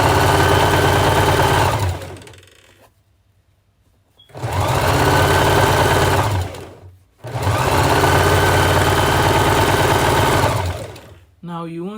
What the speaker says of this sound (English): I'll keep stitching.